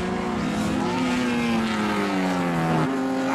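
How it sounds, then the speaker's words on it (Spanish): A BMW M3 race car accelerates in a GT1/GT2 circuit race, a loud, steady engine drone with pitch gliding through the revs, a gear shift near the end, and other cars blending in. "Acelera el M3, Cristian."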